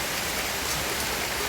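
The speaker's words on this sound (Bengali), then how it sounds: "আর এইদিকে দেখুন ঝমঝমিয়ে বৃষ্টি আরম্ভ হয়েছে।" Heavy rain pours down steadily, a dense and even roar of drops on surfaces. It is loud and unbroken, with no voices, and cuts off abruptly at the end.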